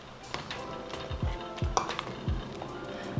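A spoon stirs a pot of beef and turkey stew with grilled meat and tripe, scraping and clinking against the pot in several distinct strokes over a soft background sizzle.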